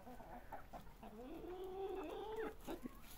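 Young hens on a village farm cluck and murmur close by, a run of soft throaty calls rising into a longer drawn-out squawk midway, with scattered rustling and pecking around them.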